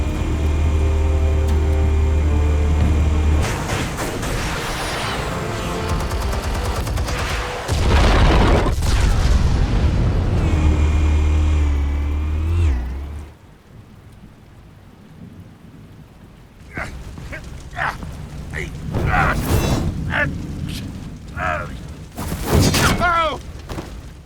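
Heavy booming detonations with long rumbling roars, mixed with dramatic music and effects in the Batman: Telltale Series game, loud and close, settling into a quieter stretch followed by sharp crackling bursts.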